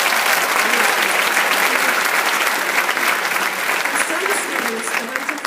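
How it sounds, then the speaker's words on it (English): Enthusiastic applause from a large graduation audience honoring faculty, dense, loud and sustained clapping close by with light crowd murmur, holding steady for several seconds and easing slightly at the end. "Graduates, let's give them a huge round of applause."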